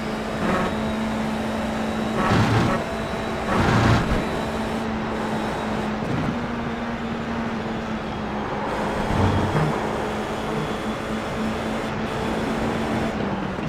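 Formula 4 race car engines roar continuously in the iRacing sim, a steady droning whine with a few brief surges as cars shift and accelerate, loud and constant throughout with no speech.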